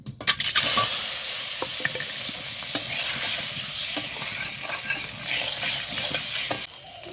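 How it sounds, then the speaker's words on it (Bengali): Duck eggs, seasoned with turmeric and salt, fry in a hot pan with a loud continuous sizzle, broken by scattered scraping and stirring clicks of a utensil, no voices. "এখন আমি এই হাঁসের ডিমগুলো দিয়ে দেব।"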